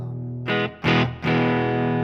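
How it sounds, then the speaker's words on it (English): Electric guitar chords ring out through a Helix amp modeler with distortion and a touch of reverb, three strummed hits in quick succession, the last one sustaining. "That's just basically the amp, and I put a little reverb on there too."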